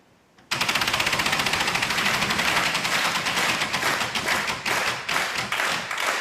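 A Wheel of Fortune game show wheel spins on a Slovak set. Its flapper snaps out a rapid, loud run of ticks that starts abruptly and gradually slows and spaces out, with no talking.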